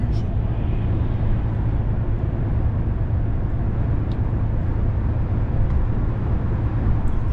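A truck cruises along the Autobahn 94 toward Munich in the rain, its steady low engine and road rumble droning continuously at close range with no pauses.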